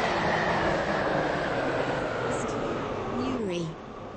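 Steady, loud rumble of a train riding through as it arrives at a station, heard from inside the carriage, with a rising and falling squeal sweeping through near the end as the noise eases off.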